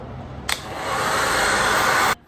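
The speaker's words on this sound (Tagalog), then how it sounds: "hair blower, okay? Okay, blower muna tayo." A handheld hair dryer switches on and blows hair with a loud, steady rushing whoosh for under two seconds, then cuts off abruptly.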